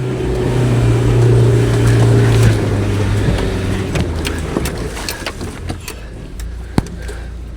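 Off-road vehicle grinding along the Mount Sunday track in wild weather, a loud steady engine drone with rumble and wind buffeting that fades into rattling knocks and a sharp bang near the end.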